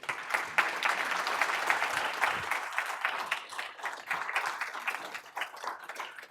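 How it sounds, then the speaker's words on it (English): An audience applauds after a keynote speech, dense sustained clapping that holds steady throughout with a slight tapering toward the end. "Another round of applause for your keynote address."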